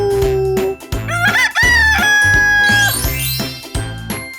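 A single rooster crows loudly, a long rising and falling call, over an upbeat music track with a steady thumping beat.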